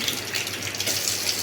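Tap water runs steadily while dates are washed, making a close, constant splashing gush without talk.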